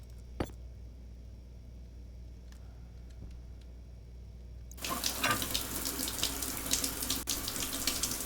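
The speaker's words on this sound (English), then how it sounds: "I take a shower with my jetpack on." Water gushes from a shower in the Stationeers video game on Venus, a steady close hiss that starts abruptly partway through after a quieter stretch with a few faint clicks.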